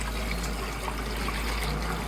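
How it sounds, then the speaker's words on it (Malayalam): Water runs into a cooking pot to boil rice for chicken biryani, a soft continuous trickle and pour heard close up over a low steady hum, with no talking. "അരി വേവിക്കാനുള്ള വെള്ളം ഒഴിക്കും സിജു."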